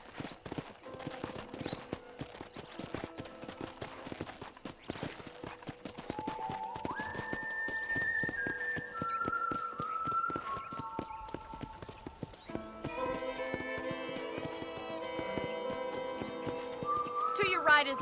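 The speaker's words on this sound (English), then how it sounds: "Okay, let's see if you can still ride a horse." Horse hooves clip-clop at a gallop while riding across a ranch in Red Dead Redemption, a steady rapid rhythm up close, with a horse whinnying and game music and voices playing over it.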